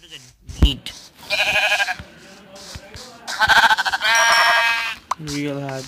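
Sheep in Minecraft PE bleat four times in quick succession, clear and close, each a nasal wavering cry.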